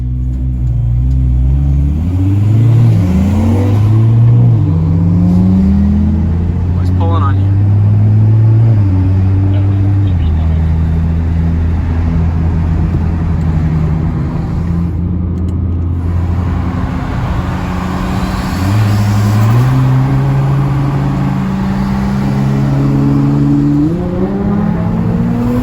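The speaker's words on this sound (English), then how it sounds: "it sounds really cool though. Like the turbo's so loud." A turbocharged Nissan Skyline R32 engine revs and rumbles loudly, pitch climbing through gears with a brief question spoken over it.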